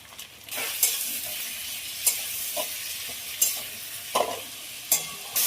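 Chopped tomatoes sizzle steadily with fried onions in a hot pan, salt added, with sharp scraping stirs breaking through the frying hiss about every second or so.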